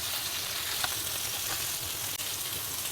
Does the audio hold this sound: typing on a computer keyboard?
no